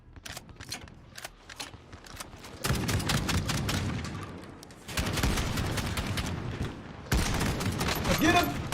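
Rapid automatic gunfire in Call of Duty Warzone, bursts of sharp cracking shots in several long volleys with brief lulls between, loud and close, with game voices mixed in.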